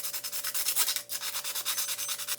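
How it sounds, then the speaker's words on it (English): Sandpaper scrubs the chrome finish off a plastic toy police car accessory in steady, rhythmic back-and-forth strokes, close and fairly loud, with a brief pause midway. "now to start sanding the chrome off and get this thing ready to paint"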